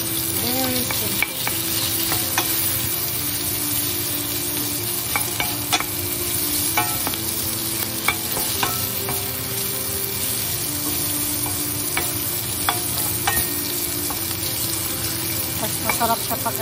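Green beans stir-fry in a hot pan, prepared American-style, with a constant loud sizzle. A utensil scrapes and taps against the pan in irregular strokes, and a faint background hum runs underneath.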